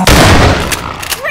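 A gunshot fired in Half-Life 2 Episode 2 booms loudly at the start and rolls into a long, dense rumbling tail that fades over about a second, with a couple of short, thinner cracks near the end.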